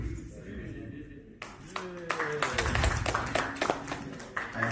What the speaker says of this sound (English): I am noting those who are not clapping